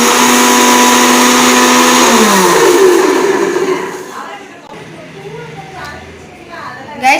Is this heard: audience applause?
no